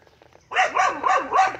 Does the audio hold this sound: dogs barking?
yes